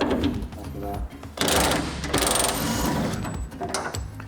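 A ratchet and power tool remove long bolts from a Toyota Tacoma truck bed, producing dense mechanical rattling and clicking bursts at close range with a voice partly underneath.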